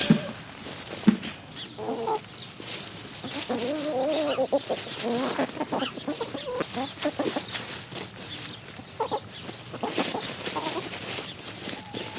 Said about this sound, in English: It's kind of cool to watch those chickens.